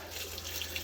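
Water pouring steadily over rock beds holding nitrifying bacteria in a garage aquaponics system, a soft, continuous splashing rush, faint and alone, with a low hum beneath.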